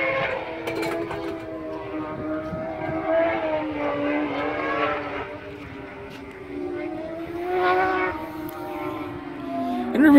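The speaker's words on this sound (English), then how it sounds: "Here they come, and they're coming through the chicane." Race cars passing through a chicane, engines rising and falling in pitch as they brake and accelerate, a steady distant roar with two swells of louder passes, no voices.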